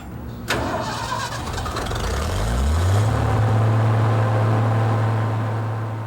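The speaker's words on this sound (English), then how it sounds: "To taking on fuel and getting hooked up to the start car." A Cold War era jet engine starts up with a start cart, a sharp click followed by a rising whine that spools up and settles into a loud, steady drone.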